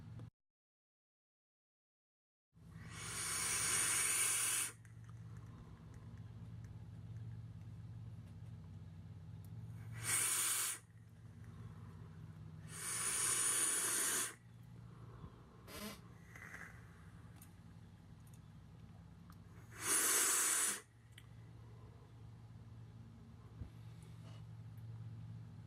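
A Timesvape Mask RDA vaped at about 120 watts with the airflow partly closed: four separate breathy hisses of airflow, each lasting one to two seconds, rise over a constant low hum.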